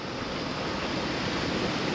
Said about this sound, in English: It's a bit windy here.